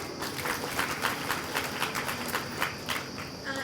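Audience applause at a NABARD IoT project inauguration, a dense, steady patter of many hands clapping throughout, fairly close and continuous without talk.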